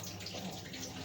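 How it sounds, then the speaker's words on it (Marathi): Water pours into a pot of crab curry in a steady splashing stream, close and moderately soft, with no talk over it. "आणि आता पाणी ओतू."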